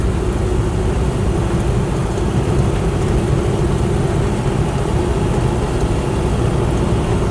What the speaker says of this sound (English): It's actually relatively quiet for a V8.